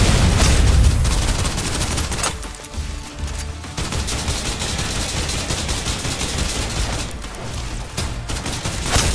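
Sustained suppressive gunfire in the sci-fi shooter game Snowbreak, a dense continuous fusillade of rapid automatic shots with booming impacts, loud and close throughout with only a brief dip in intensity.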